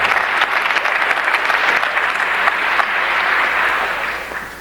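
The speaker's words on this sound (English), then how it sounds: "So you can applaud that one." A concert audience at a 1979 NTSU One O'Clock Lab jazz band performance claps steadily for several seconds, a dense, loud sustained applause with no talking that tapers slightly at the end.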